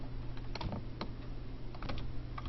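Computer keyboard typed on in a quiet room, a quick irregular run of soft key clicks over a faint steady hum.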